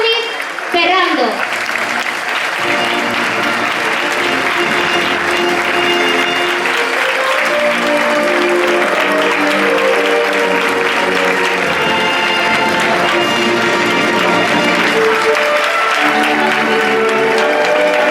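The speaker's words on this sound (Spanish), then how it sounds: "un fuertísimo aplauso" Loud, sustained applause from a large crowd at a Valencia falla anniversary event, a dense wash of clapping with cheering voices mixed in, continuing steadily throughout.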